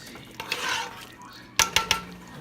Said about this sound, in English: Let me stir it. Stir it.